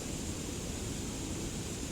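Foaming, splashing water roars steadily at the base of a small waterfall, a dense constant wash of noise with no breaks, heard close up.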